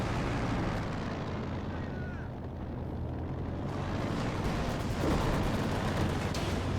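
Anti-aircraft gunfire in Company of Heroes 2, a dense, continuous rumble of distant flak and booming shots rolling on steadily with a few sharper bursts, as planes loiter overhead in the battle.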